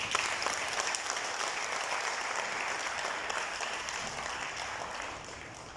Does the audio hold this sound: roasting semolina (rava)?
no